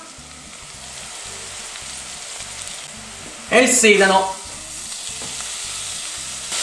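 Onion, carrot and celery sizzle and crackle in a pan for a Neapolitan pasta e patate, a steady close frying hiss with rhythmic stirring, briefly overlapped by a short spoken phrase.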